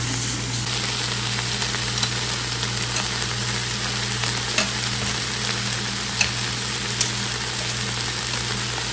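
Chicken spring roll filling cooks with chili flakes in a pan, giving a steady close sizzle and hiss under a low constant hum, with occasional soft ticks of a spoon stirring.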